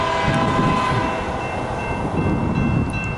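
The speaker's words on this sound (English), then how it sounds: "we got a BNSF manifest right now" A BNSF manifest freight train, led by a Dash 9 locomotive, rolls past outdoors in the Puget Sound area with a steady, loud, continuous rumble and rail noise, heard alone with no talk.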